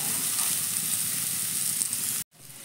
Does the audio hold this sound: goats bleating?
no